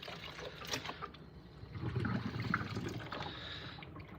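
A pot of spicy soup bubbles and gurgles steadily at close range, a soft continuous watery burble with small pops, fairly quiet and without talk.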